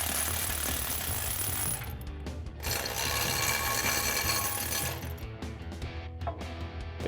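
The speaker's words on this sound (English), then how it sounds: "you can go ahead and run those out with a normal ratchet and again your 24 mil socket" Ratchet with a 24 mm socket running out brake caliper bracket bolts on a 2009-2018 RAM 2500 during a PowerStop brake job: steady, loud mechanical clicking and grinding that runs continuously, with brief pauses between bursts.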